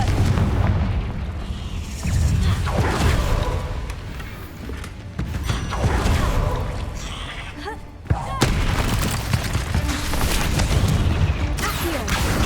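A Confringo blasting spell in the Hogwarts Legacy video game goes off in loud, booming explosive bursts, with repeated heavy blasts and crackling impacts rolling through a dense, layered battle din, and a voice heard among them.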